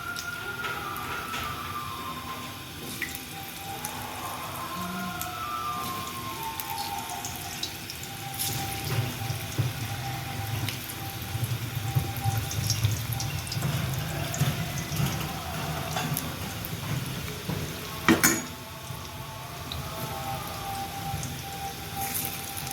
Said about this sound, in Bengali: এবার ধোকাটাকে ভেজে নেব একটু ভালো করে।